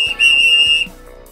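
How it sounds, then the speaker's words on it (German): A whistle is blown once in a long, shrill, steady blast with a slight trill, loud and close, lasting under a second before cutting off. "Und eine Pfeife. Hört mal."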